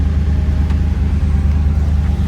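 A 1971 Chevrolet Corvette convertible with a numbers-matching engine and four-speed idles in a steady, loud, low rumble close by, with no voices over it.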